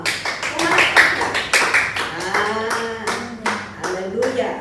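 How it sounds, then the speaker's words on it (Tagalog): A church congregation claps their hands in a loose, uneven rhythm at a worship service, the claps loud and close, with voices calling out and talking over them. "Pumalakpak nga."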